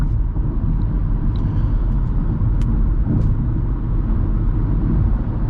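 Steady low road roar and tire rumble inside a 2023 Kia Forte LXS cruising at freeway speed, a constant loud drone with no talk.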